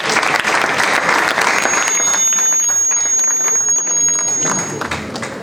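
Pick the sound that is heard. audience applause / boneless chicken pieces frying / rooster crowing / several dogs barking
audience applause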